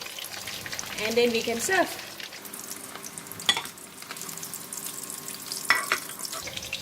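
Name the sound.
tilapia fish deep frying in oil in a pan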